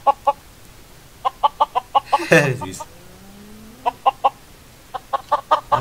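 Chickens in the video game Minecraft cluck in quick rhythmic bursts, close and clear, with a brief voice breaking in midway before the clucking resumes.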